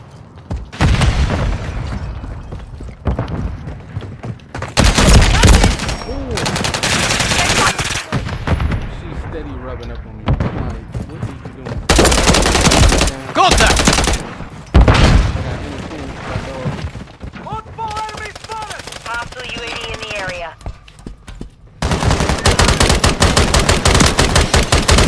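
Rapid automatic gunfire and explosive booms from a Call of Duty MW3 Team Deathmatch match on the Terminal map, coming in loud bursts separated by brief lulls, with in-game soldier voices calling out.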